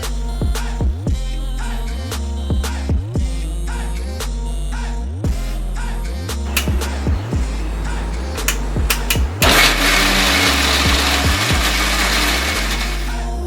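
A kitchen blender whirs while blending a banana shake, running in short repeated pulses that stop and restart, then settling into a louder, rougher continuous grind near the end.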